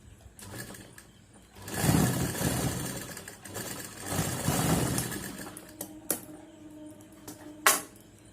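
A sewing machine stitching the seam of a cloth face mask, whirring in two loud sustained bursts, then a few sharp clicks and knocks as it stops.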